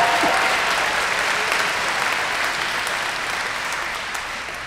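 A large audience applauds at a school commencement celebration, a dense, loud and sustained roar of clapping that slowly tapers off toward the end.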